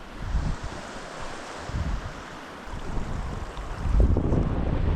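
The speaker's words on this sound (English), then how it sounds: "Have to cross another piece of river here" A shallow river flows during a mountain hike on Dogrib Ridge, a rushing, gurgling wash with wind noise that swells louder toward the end, with no voices.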